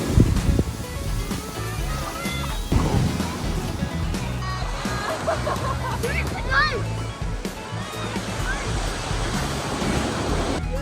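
Ocean surf rolling onto a sandy beach with cold water, a steady broadband wash of breaking waves throughout, with children and adults talking and shouting over it.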